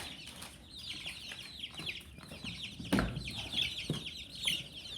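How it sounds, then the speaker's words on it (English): About fourteen chickens in a chicken tractor cluck and chatter continuously at close range, with a sharper squawk or two and some rustling in the background. "So I've got 14 chickens in here."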